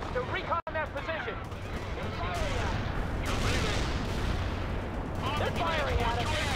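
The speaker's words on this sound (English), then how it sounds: "They're firing at us." Gunfire and explosive blasts rumble through a war video game battle, a dense, loud barrage with sharp reports over continuous din, while soldier voices speak over the fighting.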